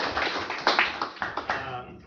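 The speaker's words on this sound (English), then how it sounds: "That deserves an applause." A handful of scattered, sparse claps under background chatter, a small, brief smattering rather than full applause.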